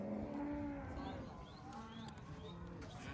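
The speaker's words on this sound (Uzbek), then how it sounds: "Mana akalar, qo'ylar." Sheep for sale at a livestock bazaar in Margilan, Uzbekistan, bleat repeatedly in wavering, overlapping calls, some near and some farther off, over a steady crowd murmur with voices talking.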